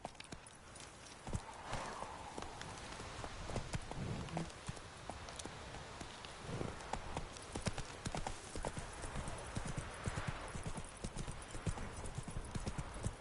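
Horse hooves clip-clop at a steady trot in the video game Witcher 3, with a short whinny, continuous and fairly close over a busy ambient background.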